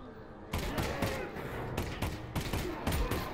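A Colt .45 1911 pistol fitted with LEDs fires in Half-Life: Alyx, with several sharp reports spaced irregularly over steady background game sound.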